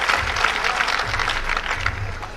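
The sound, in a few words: audience applause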